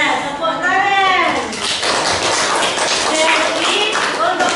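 Schoolchildren clap together in a classroom, a loud, steady burst of many small hands under overlapping voices of children.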